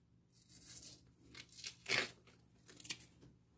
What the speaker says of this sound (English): Peel off the skin.